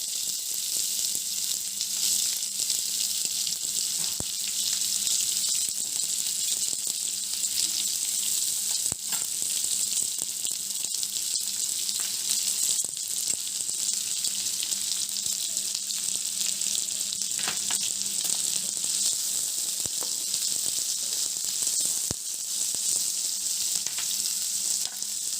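Curry leaves and chopped onions fry in hot oil for an egg masala gravy, giving a constant, even sizzle with occasional faint clicks of stirring throughout.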